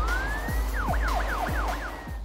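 A police siren wailing in a fast rising and falling yelp, steady and fairly loud, with a low engine hum underneath.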